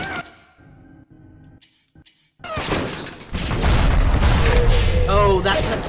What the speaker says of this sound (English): explosions set those off